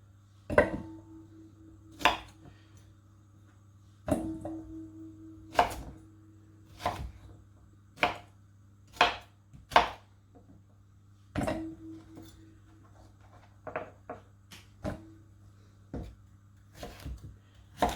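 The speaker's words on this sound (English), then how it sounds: "now I'm going to just chop up into smaller pieces ready to cook" A knife chops firmly through pumpkin on a board, about a dozen sharp thuds spaced irregularly with pauses between, close and clear with no talking.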